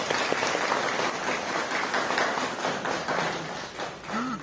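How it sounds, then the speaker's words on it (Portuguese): Applause at a church baptism and communion service, a steady patter of many hands clapping in a reverberant hall, continuous and moderately loud with no talk over it. "Eu tenho certeza que foi técnico que puxou essas palmas aí."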